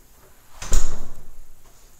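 An interior house door leading to a two-car garage swings and shuts with a single firm thud, a short knock of wood and latch followed by a brief decaying rattle in a quiet room.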